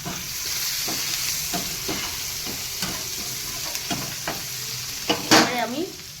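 Onion and garlic frying in oil with salt and turmeric give a steady sizzle broken by repeated scraping stirs, then a brief louder clatter near the end, close and moderate in level.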